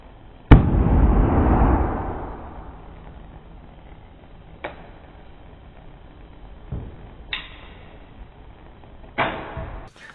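A sharp bang from a hydrogen-filled balloon bursting with a brief whooshing roar, then several smaller thumps and pops scattered over the following seconds.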